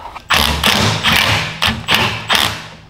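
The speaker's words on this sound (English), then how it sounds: "And then just throw that muffler away." An old muffler from a 5-7hp Mudskipper surface-drive boat engine tossed into a trash can, landing as a series of five or six close, loud thuds and bumps.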